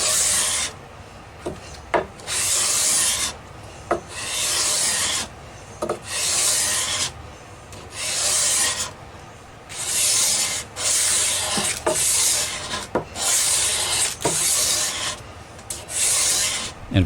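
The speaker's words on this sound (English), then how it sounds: "we'll mark the entire fretboard with lead and sand until all the lead's gone" A hand-held sanding block rasps back and forth along a vintage Hohner Shark Fin guitar fretboard to shape its radius, in steady loud strokes of about a second each with short pauses between, alone without speech.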